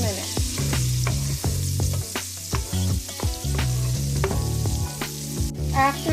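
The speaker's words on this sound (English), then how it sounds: "We're going to add in our onion, and you want to saute that" Onion sautéing in melted butter in a pan for a thick meat sauce, a loud, steady sizzle close by with frequent clinks and scrapes from a stirring utensil, and no talking.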